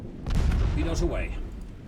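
Booming shell and torpedo blasts from a naval battle in Ultimate Admiral Dreadnoughts, a heavy low rumble with a burst near the start that lingers, with a game voice or announcer briefly audible over it.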